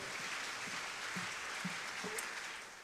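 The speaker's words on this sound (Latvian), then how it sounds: "Ar aplausiem sagaidām uz skatuves Ance Krauze." A faint, steady patter of audience applause welcomes singer Ance Krauze onto the stage at a concert with the Riga Cathedral Boys Choir, tapering off slightly at the end.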